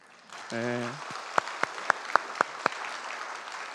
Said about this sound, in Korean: 장로님이 방문하셨는데 박수로 환영해 볼까요?